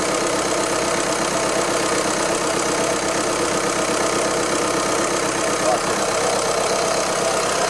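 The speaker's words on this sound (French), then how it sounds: "on va encore laisser tourner le moteur quelques minutes" Audi Q3 2.0 TDI diesel engine idling in a workshop after a particulate filter cleaning, a steady, close and loud rumbling clatter that holds an even level throughout with no revving.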